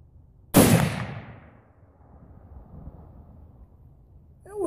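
A single .308 Winchester rifle shot fires a 170 grain cast Lee round flat nose bullet. The blast is sharp, loud and close, and its boom decays over a second or two into quiet outdoor ambience.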